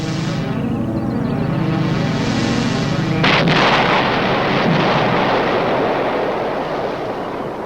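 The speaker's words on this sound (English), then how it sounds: "After placing the equivalent of 6 sticks of dynamite below himself, John Anderson prepares to set off the charg" A blast from the equivalent of six sticks of dynamite set off beneath a daredevil: a loud sustained roar builds to a sudden heavy boom that rumbles on and slowly fades, with no voices.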